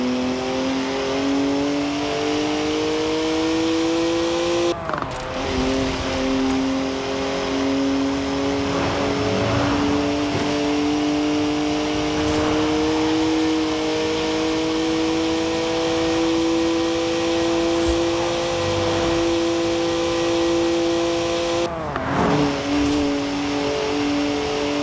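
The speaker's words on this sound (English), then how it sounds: "3-litre straight six, 335 horsepower, 2 turbos, and as much sideways action as you like." A BMW 3-litre twin-turbo straight-six, 335 horsepower, in Forza Horizon, droning loud and steady with the pitch climbing through the gears and two brief breaks at shift points, heard with no talk.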